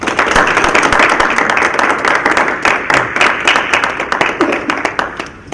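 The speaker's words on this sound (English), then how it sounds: "Please give our sister a warm round of applause," Warm applause from an audience welcoming a speaker at a Black mental health event in Dayton, Ohio, with dense, loud clapping and sharp individual claps standing out as it gradually thins near the end.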